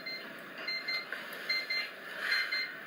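A hospital pager beeps in a busy ward, giving short high electronic pips in an irregular series over a steady noisy background.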